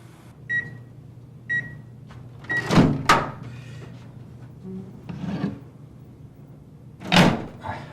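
Microwave oven in a home kitchen: a few short beeps, then door clunks, rubbing and scraping handling sounds at close range with no speech.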